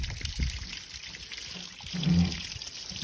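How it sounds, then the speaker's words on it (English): Water from a garden hose flushing the debris screens of a Lay Z Spa hot tub, a continuous splashing trickle that grows louder and heavier toward the end. "Giving those debris screens a good flush from the"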